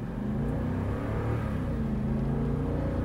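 A 5.7-liter V8 engine in a 2018-2019 Toyota Land Cruiser climbs a hill, droning steadily with a deep, continuous rumble, holding a strong load throughout with no breaks or other sounds.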